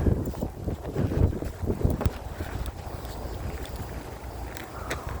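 Strong, dry wind buffets the microphone with a loud, steady rumbling roar, gusting harder in the first couple of seconds before settling into continuous blustery noise, with no voices heard.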